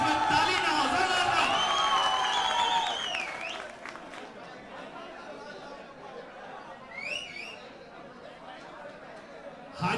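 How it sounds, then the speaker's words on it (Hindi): Crowd at a pigeon flying cup prize distribution in Moradabad, loose applause and chatter with a few whoops and cheers, mixed under a loud voice talking early on, then a murmuring gathering. "जोरदार तालियां दोस्तों"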